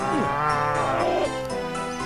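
A cow in the video game RuneScape gives one long, close, loud moo that rises and then trails off, heard alone.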